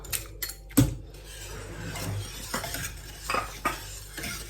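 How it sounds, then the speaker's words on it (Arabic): A spoon stirs Oreo tart mixture with Oreo cream in a pot, with soft scraping and clinks against the metal, one sharper knock near the start, and steady low kitchen background throughout. "وغنبدا نحرك"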